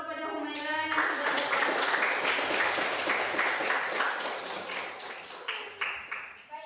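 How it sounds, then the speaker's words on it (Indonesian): Applause and clapping from a classroom of students for a classmate during a group Q&A lesson, a dense burst of many hands that swells, holds steady, then breaks into scattered claps as it tapers off. "kita beri tepuk tangan dulu kepada Humaira yang sudah"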